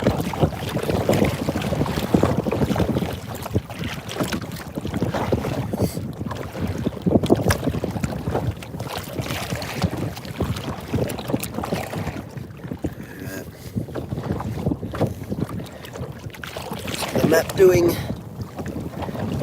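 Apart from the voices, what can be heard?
wind blowing on a boat at sea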